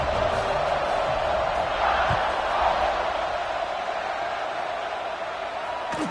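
Steady roar of a stadium crowd in a college football video game, Alabama against Ole Miss, a continuous broad wash of cheering noise with faint thumps, holding level for several seconds.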